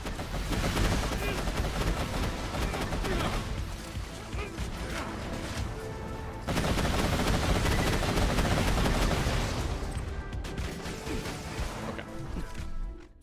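A deployed turret in the Borderlands game firing a dense, sustained barrage with crashes and impacts, loud and continuous, with a short break midway before resuming.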